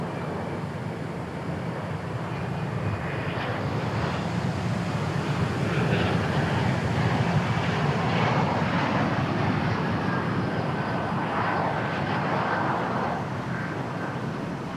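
Jet aircraft taxi at Dallas Fort Worth International Airport, a broad, distant engine roar that rises and falls slowly over a steady wind-like rush, continuous and without speech.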